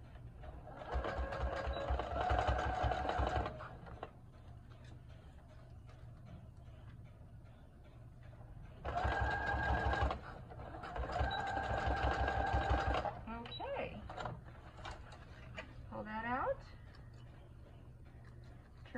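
A sewing machine stitches down a fabric filter face mask in two rapid, loud runs of a few seconds each, separated by quieter pauses with handling sounds.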